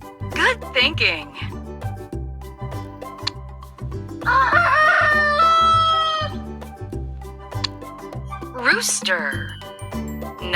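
Rooster crowing loudly over cheerful background music with jingling percussion, with crow calls at the start, a long crow in the middle and another near the end, from a farm animal quiz for toddlers.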